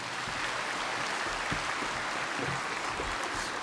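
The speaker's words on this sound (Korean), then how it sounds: "박수로 맞아주시기 바랍니다." A congregation at a Korean Easter united church service applauds to welcome the pastor to the pulpit, a soft, even wash of many hands clapping heard at a distance in a large hall.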